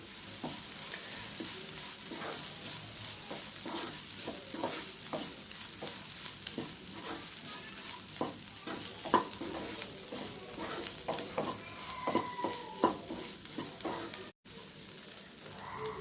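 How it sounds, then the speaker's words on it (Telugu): Carrots and beans fry in a pan while a spoon stirs them, producing a soft continuous sizzle with frequent light scraping and tapping against the pan. "ఒకసారి కలుపుకుందామండి."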